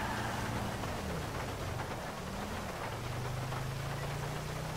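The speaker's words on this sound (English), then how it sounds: "enjoy the scenery, enjoy the sounds of the torrential downpour" Dense, steady hiss of heavy rain pouring down in Grand Theft Auto V, with a low engine hum underneath.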